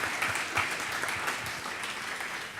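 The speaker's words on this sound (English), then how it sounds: "Give Josh and Crystal and Ann and Jake a round of applause for that." Dense audience applause fills a convention hall after a panel discussion at an academic convocation, steady and fairly loud from start to finish with no talking over it.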